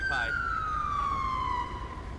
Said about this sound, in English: Alright, we got an ambulance here, though.